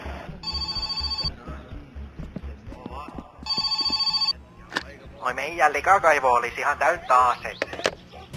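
A phone rings twice in the game My Summer Car with a septic tank job call, two bursts of bright electronic ringing separated by a pause, then a warbling, garbled character voice speaks over a low engine hum.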